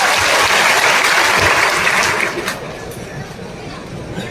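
A large crowd at a BJP political rally in Prithvipur breaks into loud, dense applause that holds strong for about two seconds, then thins into lighter clapping and crowd murmur.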